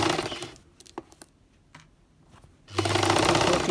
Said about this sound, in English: put your presser foot down, and we're going to sew the skirt right at the edge of the skirt we sewed